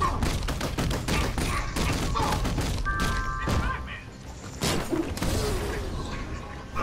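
Rapid bursts of gunfire and heavy thuds from combat in Batman: Arkham Knight crackle almost nonstop, loud and close, with a player talking over the shooting.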